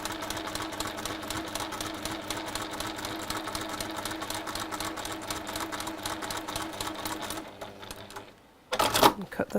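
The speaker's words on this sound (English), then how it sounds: "I'm just going to use the thread I've got in the machine for now. And just sew quite close to the edge," A sewing machine stitches fabric close to the edge in a rapid, steady mechanical rattle that runs continuously before stopping near the end, followed by a brief louder clatter, close and clear.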